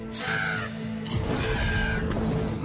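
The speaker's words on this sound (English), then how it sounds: "They're ravens and crows." Ravens and crows caw loudly and close by in a few harsh, raspy calls, the first two separated by a short pause and more overlapping calls after, with no one speaking.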